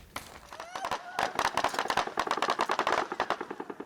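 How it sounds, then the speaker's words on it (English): Machine gun fire aimed at journalists, reportedly from an Israeli tank: a long run of rapid, sharp bursts, fairly close and loud, repeating in an uneven rhythm for several seconds, with faint voices underneath. "the journalists were actually being fired upon with a machine gun."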